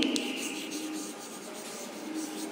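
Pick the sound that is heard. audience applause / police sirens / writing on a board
writing on a board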